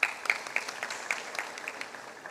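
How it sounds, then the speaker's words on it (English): Audience applause for a scholarship recipient at a Mastercard Foundation ceremony: light, scattered hand claps from a modest crowd, fairly soft and thinning out over a couple of seconds. "please give him a round of applause."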